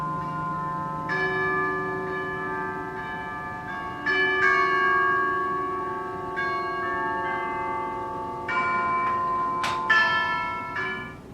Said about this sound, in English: So the opening bells, it starts on a unison D, and the bells open it.